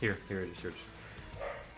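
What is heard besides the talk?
dog barking in the background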